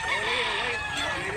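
White League rooster crowing at a cockerel market in Mantalungon, Barili, Cebu: a single sustained, close crow with a little crowd noise behind it.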